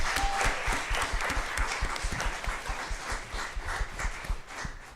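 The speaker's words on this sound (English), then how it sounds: "Can we give her another round of applause?" At a school district governing board meeting, an audience gives a round of applause, moderately faint, scattered claps with an irregular patter that holds for several seconds.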